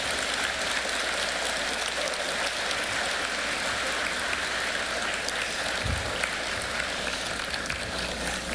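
Applause from the audience fills a 2025 high school graduation ceremony at Auburn High School, a dense, sustained patter of many hands clapping without pause.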